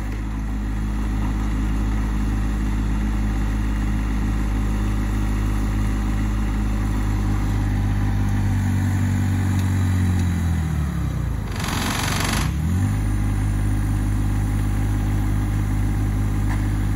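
A John Deere 1025R compact tractor drives a post hole auger, its engine running loud and steady with a deep hum, then dipping sharply in pitch as if bogged under load before recovering.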